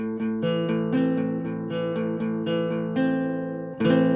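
A barre chord strummed repeatedly on a clean guitar, several even strums letting the strings ring, then one final fuller strum; close and clear, no talking.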